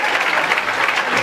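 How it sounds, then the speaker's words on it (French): An audience at a comedy show applauds in a steady, close, dense burst of clapping throughout. "je voudrais simplement vous demander de vous applaudir"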